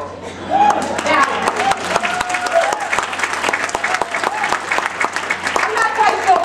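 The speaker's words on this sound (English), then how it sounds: "I'm not quite sure why y'all clap" An audience at a business kickoff meeting in New York City claps continuously, a dense loud burst of many hands with sharp individual claps standing out, sustained throughout without letting up.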